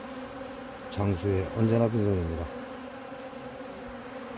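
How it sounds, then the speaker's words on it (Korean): Hornets swarm around an open-air bee feeding spot set outside hives at a Jeollabuk-do apiary, giving a loud, close buzzing drone for about a second and a half before it fades, with a voice speaking over part of it. "보시면 그 말벌이 이 노지 사용하는데 이렇게 뭉칩니다"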